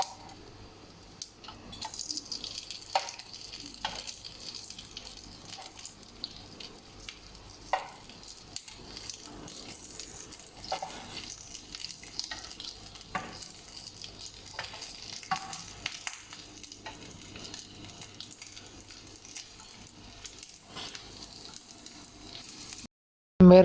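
Marinated Afghani chicken boti pieces frying in melted fat in a pan over a very low flame give a soft, continuous sizzle with scattered small pops and spits, close and gentle, with no talking.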